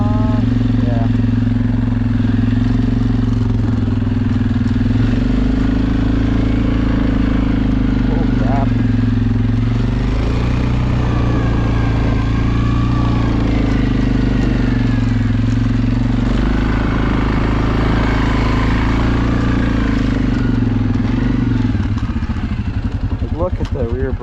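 A Suzuki KingQuad ATV engine runs steadily while riding through snow in a snowstorm, a continuous loud mid-pitched drone with shifting revs throughout, and voices talk over it.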